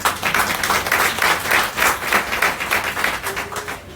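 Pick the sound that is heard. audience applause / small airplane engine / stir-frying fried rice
audience applause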